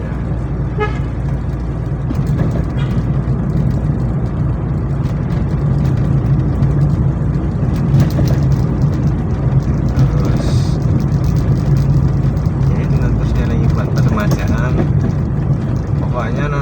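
Toyota Corona 1.6 with the 4A-F carbureted engine running during a test drive, a steady loud drone and road rumble throughout, with someone talking over it.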